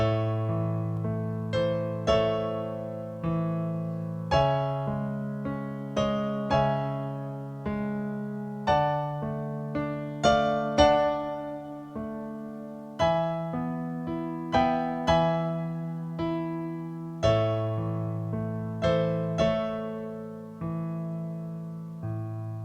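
A piano plays a slow, repeating pattern of chords with low bass notes beneath, each one ringing out and fading before the next.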